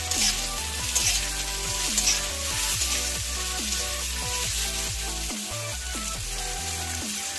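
Onion and tomato fry together in a kadai for a Bengali egg curry with potatoes, giving a steady, even sizzle and hiss throughout, with a soft melodic tune underneath and no talking.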